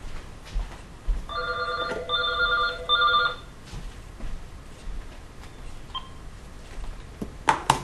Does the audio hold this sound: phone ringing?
yes